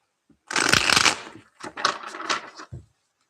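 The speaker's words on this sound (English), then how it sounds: "I must be doing something with my shuffling" Tarot cards shuffled by hand during a live reading: a long, dense riffling burst followed by a few shorter shuffles and a final soft tap, close and fairly loud, with no talking.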